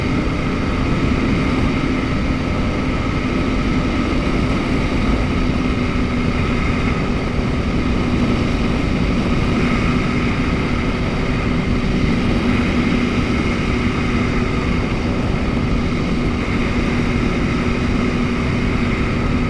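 A flexwing microlight's engine drones continuously in flight during solo circuits, a steady loud buzzing hum with a low propeller tone that barely changes throughout.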